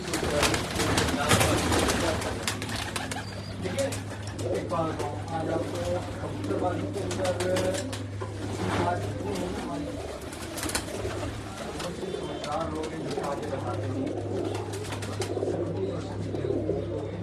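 Pigeons coo in soft, repeated throaty calls throughout, mixed with a steady low hum and someone talking over them at close range.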